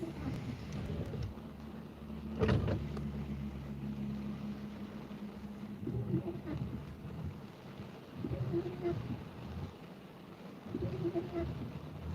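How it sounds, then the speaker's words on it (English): Rain picks up during a Florida storm outdoors, a faint, steady hiss with a sharp crack and low rumble early on, while engine-like hums swell and fade in the background. "That rain's picking up now."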